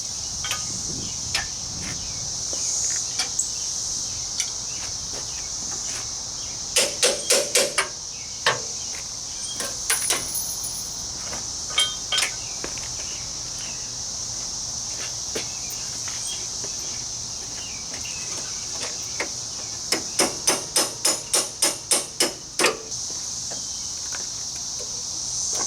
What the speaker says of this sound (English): I'm going to start jacking it up, get the bolts the rest of the way out